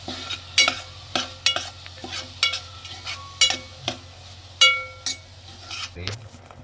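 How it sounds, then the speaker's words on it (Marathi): Garam masala being sautéed in a pan for a tisrya clam curry, heard as a series of sharp spoon scrapes and clinks against the pan over a faint low sizzle, fairly close. "आणि 2 चमचे गरम मसाला, याला चांगलं परतून घेऊया."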